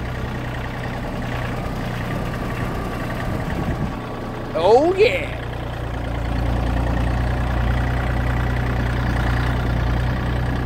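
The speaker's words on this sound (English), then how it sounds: "And I'm riding on the front of the tractor." Steady low tractor engine drone heard up close from a rider perched on the front of the machine, continuous throughout, with a brief voice and a short chirping sound partway through.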